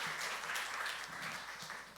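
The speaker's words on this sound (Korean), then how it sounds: "우리 귀한 강의해 주신 목사님께 박수로 우리 한번 감사의 말씀 표현하겠습니다" Applause from a church seminar audience thanking a lecturing pastor, a steady even wash of many hands clapping at moderate distance, continuous for the whole stretch with no voices.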